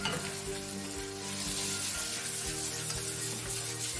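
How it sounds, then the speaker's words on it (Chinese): Scallops and colored bell peppers stir-fry in a wok, giving a steady close sizzle broken by regular scraping and tossing strokes of the spatula. "彩色辣椒， 翻炒，再倒入扇贝"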